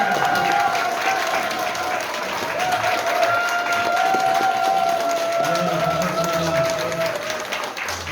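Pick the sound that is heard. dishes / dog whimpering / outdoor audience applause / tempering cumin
outdoor audience applause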